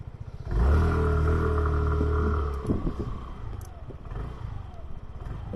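A 2024 SYM Cruisym 150GT scooter's engine is heard while riding, a loud steady hum that rises, holds for about two seconds, then drops to a quieter rumble.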